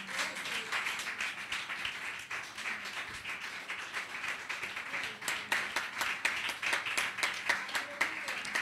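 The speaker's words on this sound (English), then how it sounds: "Clap now." Audience clapping at a church women's gathering, a dense steady patter of many hands with some sharper claps, running throughout at moderate level with voices faintly mixed in.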